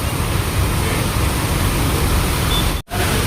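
Rain falling in Rajkot makes a constant, even hiss of drops, near and fairly loud, broken by one brief gap in the sound near the end.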